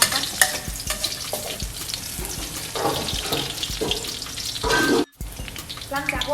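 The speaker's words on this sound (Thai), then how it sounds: "เผาเลย เดี๋ยวหัวเทียมหอมเลยนะคะ" Garlic fries in a hot pan for stir-fried glass noodles with shrimp, a loud continuous sizzle with scraping stirring strokes, cut off briefly near the end before resuming.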